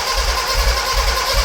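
A Toyota 4A 1.6L engine in a Tercel wagon, running with its timing off, idles loud and close with a rough, rapid tapping clatter that stays steady throughout.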